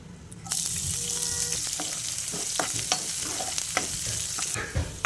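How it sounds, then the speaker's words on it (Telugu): Onions with mustard seeds, cumin and dried red chilies sizzle steadily in hot oil, a loud continuous frying hiss with soft stirring scrapes and no talking. "ఆనియన్స్ సాఫ్ట్గా అయ్యేంత వరకు ఉడికించుకోవాలి"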